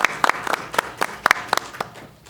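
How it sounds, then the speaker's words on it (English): Sparse, distinct hand claps at a school district board meeting, a few people clapping in an uneven rhythm, sharp and fairly close, thinning out toward the end. "So everybody give them applause for their recognition for their contribution."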